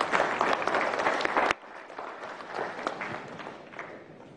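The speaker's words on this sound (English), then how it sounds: "Let's give a round of applause for them." An audience at an agribusiness investment forum in Ghana claps loudly for about a second and a half, then fades into scattered, softer clapping and room murmur.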